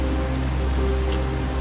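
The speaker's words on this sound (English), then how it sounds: "Well, it's starting to rain again." Rain falling steadily during a summer monsoon hike in Clear Creek, Cimarron Canyon, a dense continuous patter filling the air, loud and close with no voices.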